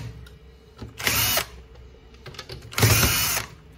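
An electric screwdriver whirs in two short bursts, backing screws out of the rear of a Samsung M2020W laser printer, with quiet handling clicks between.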